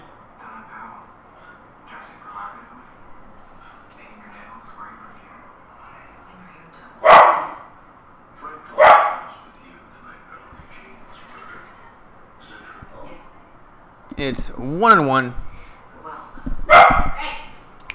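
A dog barks loudly several times at irregular intervals, close by, while people talk through and between the barks.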